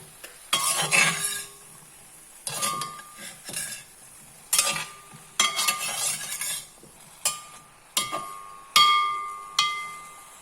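Eggplant with turmeric powder is stirred in a pan, a spoon scraping and clinking against the metal in repeated close bursts separated by short pauses, with no speech.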